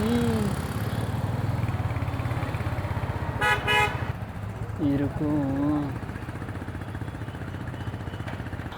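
Congested Bangalore street traffic heard from a Ducati motorcycle: a steady rumble of engines and motorbikes, with a sharp car horn honk midway and more horn tones after it, while someone talks over the noise.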